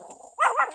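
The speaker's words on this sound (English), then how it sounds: "puppies are barking" Puppies barking indoors, a short soft whimper followed by a brief higher yip, fairly close, with no talking.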